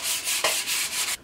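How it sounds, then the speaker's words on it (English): Rhythmic abrasive strokes of sandpaper rubbing back and forth along a wooden forest axe handle, steady and close, several passes with brief pauses, no talking. "Just gonna finish up sanding the handle a little bit more"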